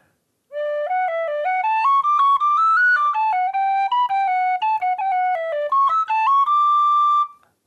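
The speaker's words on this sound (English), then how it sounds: "here's the Silver Spire the way you might play it on a D whistle" A melody on a D tin whistle, the Irish tune The Silver Spire, rising into the upper octave; clear, close and steady notes with quick ornamented changes and no talking.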